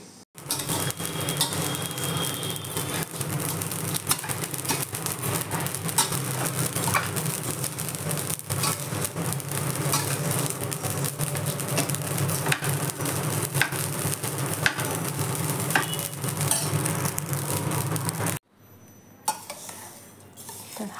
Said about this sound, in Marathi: तर आता मी हे सगळं भाजून घेणार आहे